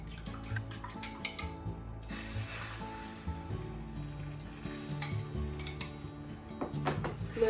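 A metal frying pan holding egg mixture clinks and scrapes against the stovetop a few times over a soft, steady background hum.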